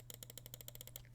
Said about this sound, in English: I will get into a sound test now. Right and left click.